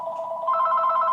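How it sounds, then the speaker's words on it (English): A telephone bell rings steadily and fairly loudly, a continuous electronic ring that brightens and intensifies partway through, with no talking over it. "The phone rang."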